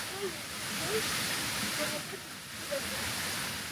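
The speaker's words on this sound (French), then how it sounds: "C'est bien dormir à côté d'une cascade?" A waterfall rushes steadily beside a hikers' overnight camp on the GR30 volcano trail in Auvergne, a continuous broadband roar that fills the clip, with faint voices barely audible underneath.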